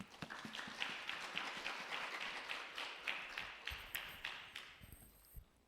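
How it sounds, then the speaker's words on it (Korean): Welcoming applause from a congregation at a Wednesday worship service at Busan University of Foreign Studies as a guest pastor comes forward, a steady stream of fairly faint hand clapping that thins out toward the end. "우리 강사님 나오실 때 환영과 축복의 박수로 모시겠습니다."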